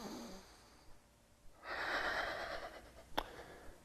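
A long, deep breath is drawn and released during a yoga posture, a soft airy rush that swells for about a second, with a quick sniff at the end.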